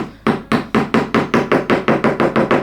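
Rapid, evenly spaced hammer taps drive small push pins into wood, about a dozen sharp knocks in quick succession.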